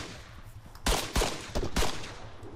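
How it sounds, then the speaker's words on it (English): Gunfire in Arma 3 arrives as four sharp, separate shots or short bursts spaced irregularly over a couple of seconds, loud against a quieter background, with no talking. "Oh shit! I'm getting shot at."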